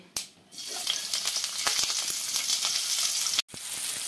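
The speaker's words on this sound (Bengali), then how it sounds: "এখন তেলটা গরম হয়ে গেছে, এখন তেলের উপরে আমি পেঁয়াজ কুচিটা দিয়ে দিচ্ছি।" Chopped onion dropped into hot mustard oil in a frying pan, a sharp initial burst and then a steady crackling sizzle that runs throughout, briefly interrupted once near the end.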